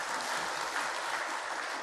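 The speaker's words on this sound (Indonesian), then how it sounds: "Kita tepuk tangan untuk kita semua." A crowd at a church synod opening ceremony in Palembang claps together, a steady, fairly distant wash of applause that continues evenly throughout.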